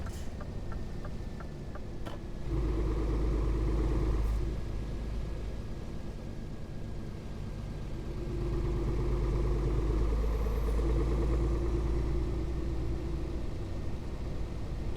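A 450-horsepower truck engine in a trucking simulator game set in Greece rumbles low and steady, swelling louder in long surges, with a few soft clicks at the start and no talking.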